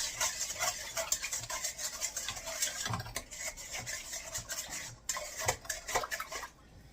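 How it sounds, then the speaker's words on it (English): A spoon stirs cinnamon roll mixture in a bowl with continuous scraping and clinking strokes against the sides, close and fairly quiet, with a brief pause partway through and no talking. "And I'm just going to stir it a little bit."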